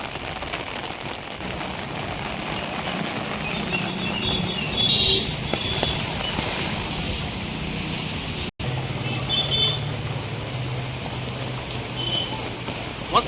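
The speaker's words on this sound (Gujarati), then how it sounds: "આપ જોઈ રહ્યા છો ધીમો ધીમો વરસાદ આવી રહ્યો છે." Light rain falls steadily on outdoor surfaces, a continuous soft patter of drops, with no one talking.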